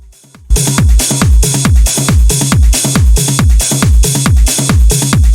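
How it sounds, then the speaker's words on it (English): Heavily parallel-compressed hardgroove techno drums in a steady four-on-the-floor loop, a loud booming kick on every beat with dense hats and percussion driving over it, starting after a brief quiet lead-in. "I put all the main drums together, and I crash them with a compressor"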